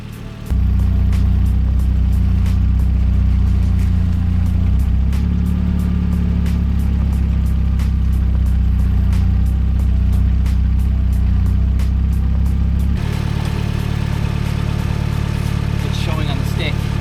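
A Mazda Miata on its first drive after a power steering fix, with a loud, steady droning engine and road noise from inside the car that shifts tone partway through, and voices under it.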